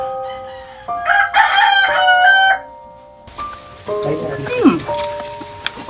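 Rooster crowing and clucking close by in short bursts, mixed with brief human vocal sounds; faint patter in the background.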